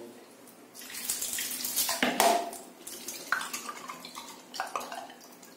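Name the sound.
water running while testing a TOTO toilet flush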